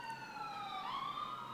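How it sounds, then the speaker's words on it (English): Emergency vehicle sirens passing outside, their steady, fairly faint electronic tones bending in pitch partway through as they go by, with no speech. "As the sirens go by, I just can't hear you."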